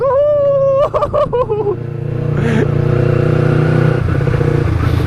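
A Kawasaki Ninja 250cc carbureted motorcycle engine revs loudly up close, rising and falling in pitch, then settles into a steady droning ride.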